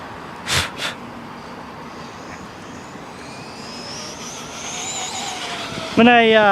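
A Rustler RC car driving, heard as a steady motor whine and road rumble with two knocks near the start, then a sharp rising electric whine as it accelerates hard at the end.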